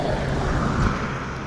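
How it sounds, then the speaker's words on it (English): Busy road traffic passes by, a steady broadband roar of vehicles rising slightly and easing off over a brief stretch, with no talking. "Traffic is wild."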